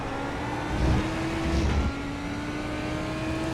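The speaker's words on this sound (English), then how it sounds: "I get back on throttle when I can see the second apex curb" A Lamborghini GT3 race car in iRacing at Laguna Seca drones steadily under throttle, engine note climbing through acceleration with a brief gearshift dip, loud and close with no talking.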